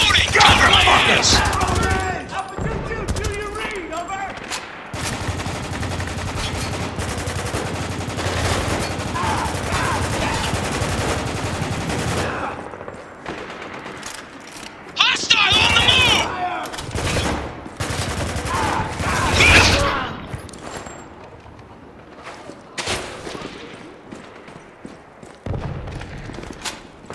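Gunfire during a firefight in the shooter game Spec Ops: The Line, with sustained bursts of automatic fire and heavy shots, loud and continuous, easing into quieter pauses with further volleys near the end.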